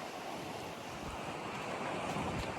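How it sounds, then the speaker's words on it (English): Breezy seaside wind on the coast near the St Andrews golf course, a steady roar of gusts buffeting the microphone over rushing surf, constant and fairly loud with no talking. "Today it's a bit breezy."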